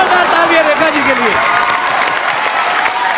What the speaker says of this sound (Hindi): जोरदार तालियां रेखा जी के लिए